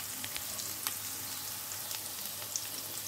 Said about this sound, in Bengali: তিল, বাদাম, কাঁচা লঙ্কা, ধনে পাতা, রসুন। এখানে হালকা একটু ফ্রাই হয়ে যায়।